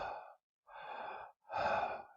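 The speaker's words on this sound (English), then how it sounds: "So they would just take 2 deep breaths in," Three deep, airy breaths in close succession, each lasting about half a second, breathy and soft at close range with short silent gaps between them.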